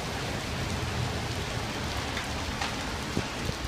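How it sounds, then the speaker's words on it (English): Heavy rain pours down on a street in Prague, a dense, loud, steady hiss of drops hitting surfaces with occasional sharper splashes, continuous and unbroken. "Got our first rain of Prague today. It's really coming down here"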